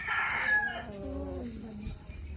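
A rooster offered for sale crows once, close and clear, its long call falling in pitch and then trailing off against quiet background noise.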